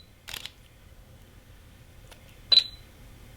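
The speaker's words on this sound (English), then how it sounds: "Listen to this shutter sound, guys." Two separate shutter clicks from a Fuji X-H1 camera, each a short crisp snap with a faint beep, close and quiet, spaced about two seconds apart against a soft background hum.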